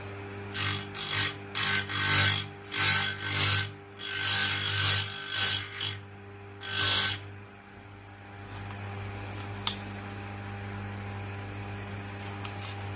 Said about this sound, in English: So what we'll do is lock that in a position, grind the wheel.